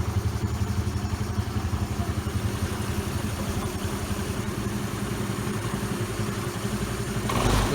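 A 100cc Honda Lead SVC-F scooter under restoration idles with an even, rapid putter and faint mechanical clatter, close and steady, with a slight rise in engine speed at the very end.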